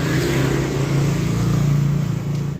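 Passing vehicles on a dark street before rain make a steady, loud engine drone with a low rumbling hum throughout, and no one speaks.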